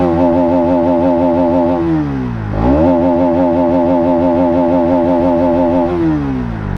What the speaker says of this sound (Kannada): ಪರವಾಗಿಲ್ಲ, ಎಕ್ಸಾಸ್ಟ್ ಸೌಂಡ್ ಬೇಸಾಗಿ ಇದೆ ಗುರು.